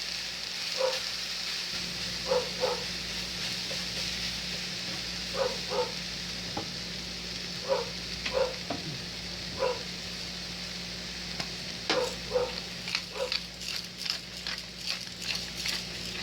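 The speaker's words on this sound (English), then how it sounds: "I want to try to toss this around so that most of the vegetable is then making contact with the pan" Pepper steak vegetables hiss steadily in a hot pan while being tossed, with a run of short, rhythmic knocks and scrapes from the pan at moderate volume.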